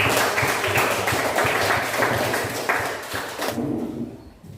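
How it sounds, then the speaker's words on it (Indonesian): Applause in a room closes a group discussion session during teacher practice training. Dense, steady clapping fills the room, then thins and fades out near the end. "Oke, tepuk tangan."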